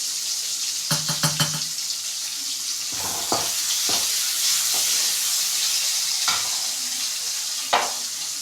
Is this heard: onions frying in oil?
yes